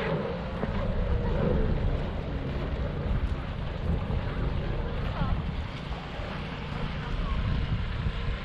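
Motor yachts cruising on open water, heard from a passing motorbike ride in Poland, with a steady broadband engine and water rush mixed with heavy wind buffeting on the microphone throughout.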